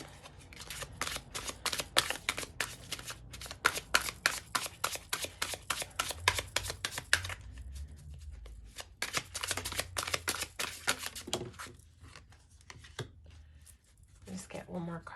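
Tarot cards shuffled by hand in quick, crisp riffling flutters, repeated in close bursts with brief pauses, while someone talks softly underneath.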